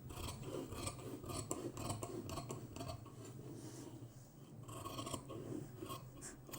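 Scissors snip through silk fabric while cutting out a boat-neck blouse, a run of quiet, close, rhythmic crisp cuts and rustles heard alone without speech.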